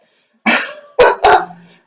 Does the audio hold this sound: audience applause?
no